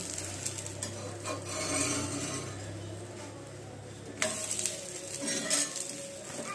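Pesarattu, a lentil crepe, roasts in oil on a pan with a soft sizzle, while scraping and metal utensil clinks mark the turning. The sound is close and moderately quiet.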